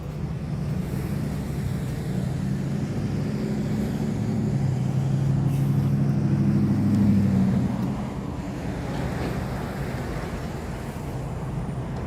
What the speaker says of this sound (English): Got some traffic buildup over here from the lane construction.